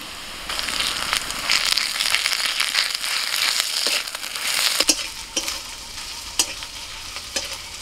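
Garlic paste hits hot oil in a pan with chopped onion, bursting into a loud, dense crackling sizzle that settles after a few seconds into a quieter fry with sharp spatula scrapes and clicks.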